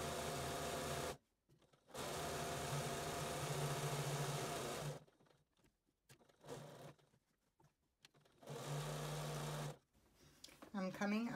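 A sewing machine stitches fabric for a surgical cap in steady whirring runs, starting and stopping several times with short pauses between bursts, close and clear.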